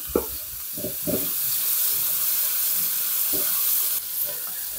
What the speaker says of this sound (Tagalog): dito na rin tayo magigisa ng bawang sibuyas natin. Una natin ilagay ang bawang